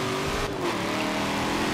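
GT race car engines roar steadily in Forza Motorsport 7, a close, loud sustained engine drone from a pack of cars racing together, with no break in the noise.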